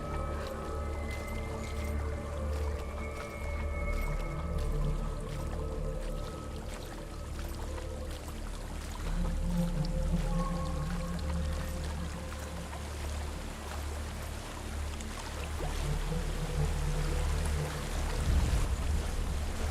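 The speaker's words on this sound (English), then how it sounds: "There's a waterfall." A waterfall in Hellblade: Senua's Sacrifice rushes as a steady broadband roar of falling water, continuous and moderately loud for about twenty seconds, with faint tonal game music layered over it.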